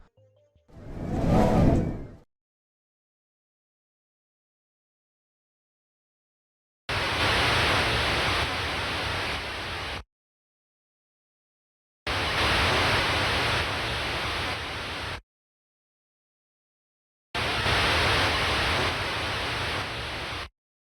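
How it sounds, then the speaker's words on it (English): Video game ocean waves: a rushing wash of noise swells and fades, then three steady surges of roughly three seconds each follow, separated by silence. "Just listen to those waves, man."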